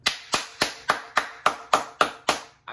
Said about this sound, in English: I had to give myself a clap for that shit